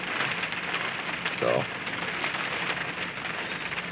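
Rain drips and patters outside a truck on a cold night, a steady dense hiss of drops filling the whole clip. A brief voice cuts in near the middle.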